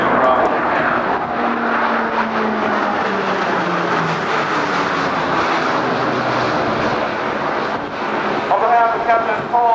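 An E-2C Hawkeye turboprop carrier aircraft flies a demonstration at the 2008 NAS Oceana airshow, its loud droning propeller roar shifting in pitch as it passes while an announcer speaks over it.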